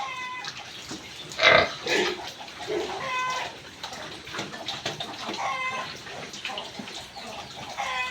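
Pregnant sows and piglets on a farm grunt and squeal at close range, with a sharp high squeal standing out among busy, overlapping animal noises.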